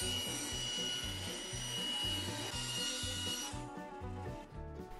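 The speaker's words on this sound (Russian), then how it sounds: "Далее иду к ленточному станку и выпиливаю по разметке." A band saw cuts through plywood along a marked line, giving a close, rhythmic rasping hum with regular pulsing strokes that eases off toward the end.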